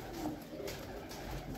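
A pigeon, a red-eyed breeder bird, coos low and soft in a steady murmur over a constant background hum, with no talk.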